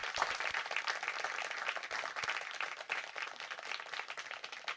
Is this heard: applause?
yes